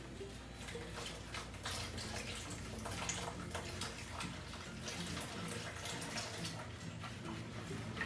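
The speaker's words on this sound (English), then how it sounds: "Now let's add our 1 cup of whole milk." Whole milk is poured into a chocolate ice cream base for a Ninja Creami recipe, a steady soft liquid stream trickling continuously for several seconds, close and quiet.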